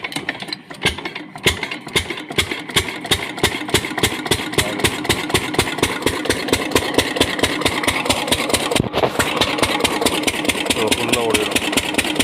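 An oil engine motor cranks and fires, then settles into a loud, steady, rhythmic thumping run with evenly spaced beats close by.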